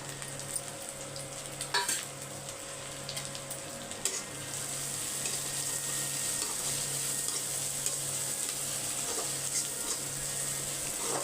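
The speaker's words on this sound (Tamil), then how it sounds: "இந்த ஆனியன் பாதி வதங்கினா போதும் ஓகேவா வதங்கட்டும்" Onions sautéing with green chilies in a pan, a gentle continuous sizzle with a few sharp clicks of a spoon, growing slightly louder midway, close by and without speech.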